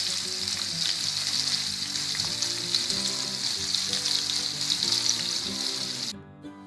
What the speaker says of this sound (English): The first part of cooking it is frying the fish.